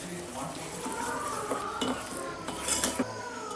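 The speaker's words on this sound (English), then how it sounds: "I'm adding in 3/4 cup of jaggery. Going to just mix it in quickly" A spoon scrapes and clinks against a metal pan as jaggery is stirred in quickly off the heat, a soft continuous stirring with irregular metallic taps, close but fairly quiet, no talking.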